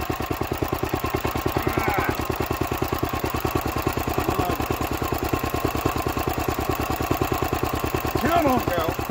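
Old Lister D stationary engine running after a carburettor fix, a fast regular thumping beat that holds steady and close throughout with light metallic clatter, while someone talks briefly over it.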